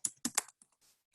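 Typing on a computer keyboard, three or four quick close keystrokes followed by a couple of fainter taps.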